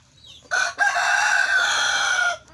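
A rooster crows loudly and close by in one long, strained call, with quiet clucking of chickens before and after.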